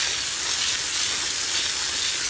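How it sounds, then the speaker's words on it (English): Water sprays onto a straw bale in a garden, a close, steady, bright hiss that continues evenly and then cuts off abruptly. "and then spray it with the water."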